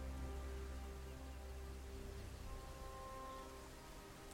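Steady rainfall in the video game Gothic 3, a continuous wash of noise with faint low game music and tones underneath, no one talking.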